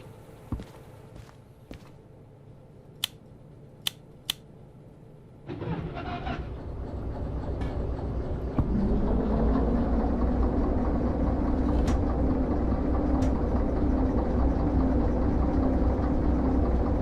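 Locomotive in the train game Derail Valley: a few footsteps and clicks over quiet rumble, then the engine starts up and settles into a loud, steady idling drone.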